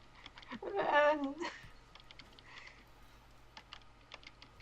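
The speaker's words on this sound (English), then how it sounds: "you can just hear me like switching between brush and eraser with my keyboard, just click click click click click." Keyboard hotkeys click while someone switches between brush and eraser during digital drawing: a spoken phrase comes first, then a run of light, close, irregular taps that continues alone at low volume.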